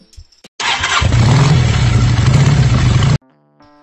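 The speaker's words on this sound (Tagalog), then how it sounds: "Electronic starting na lang po pagdating sa kanyang makina" An FKM Ranger 150 scooter's small engine cranks briefly on electric start and catches, then runs with a loud steady idle for a couple of seconds before cutting off abruptly.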